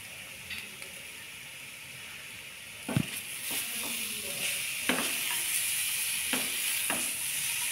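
Raisins frying in a pan for sweet potato halwa, a continuous hissing sizzle with occasional spoon scrapes and taps against the pan, close and quiet.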